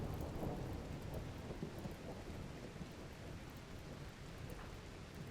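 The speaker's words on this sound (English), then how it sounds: "Yep, it's raining now, so the fires are gonna get extinguished automatically." Faint steady rain with a low rolling rumble of thunder from a thunderstorm in the video game RimWorld, heard alone at a soft level.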